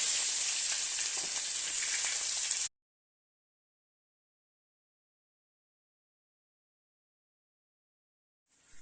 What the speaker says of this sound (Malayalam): ഉലുവ മൂക്കുമ്പം വെളുത്തുള്ളി ഇട്ട് വെക്കുക